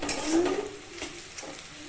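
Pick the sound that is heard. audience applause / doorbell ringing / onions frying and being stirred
onions frying and being stirred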